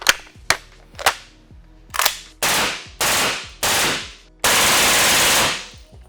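A Kel-Tec KP9 chambered for 300 Blackout fires loud, close shots, first a few single cracks, then heavier blasts with long echoing tails, ending in a sustained roar.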